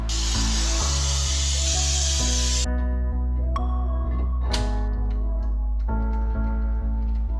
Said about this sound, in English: spray the shit out of it with brake cleaner